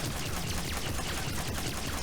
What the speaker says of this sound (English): You guys sure do take a lot of shots